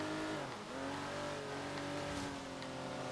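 A car accelerates in Forza Horizon 3, the engine revving up with rising tone and shifting pitch, a steady close drone with a brief dip as it changes gear, no talking.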